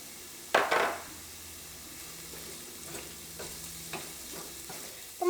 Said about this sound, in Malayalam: മഞ്ഞൾപ്പൊടി എണ്ണയിൽ കിടന്ന് നന്നായിട്ട് മുരിഞ്ഞിട്ടുണ്ട്